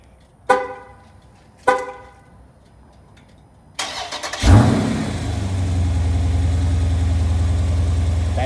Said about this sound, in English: Let's go ahead and start it up real fast.